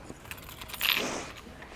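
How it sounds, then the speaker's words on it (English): A bunch of keys jangles close by in a short metallic rattle that swells in the middle and fades, with no voices over it. "Oh, keys."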